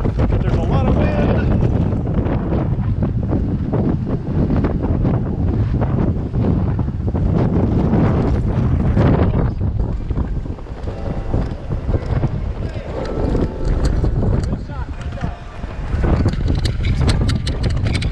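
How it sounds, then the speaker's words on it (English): Strong wind roars continuously and loudly, buffeting the microphone with rough gusts for the whole stretch. "there's a lot of wind"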